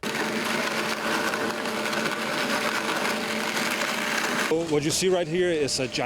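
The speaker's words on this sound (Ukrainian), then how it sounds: "Те, що ви бачите зараз, це гігантський 3D-принтер, і ми використовуємо його, щоб спорудити будівлю" Giant 3D printer extruding mix for a school building in Lviv, a steady mechanical whir and hum with tonal motor layers, followed near the end by a person speaking over it.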